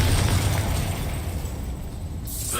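A Confringo fire spell blasts in the Hogwarts Legacy video game, a heavy rumbling explosion that decays into a fading roar, with a sharp crackling burst near the end.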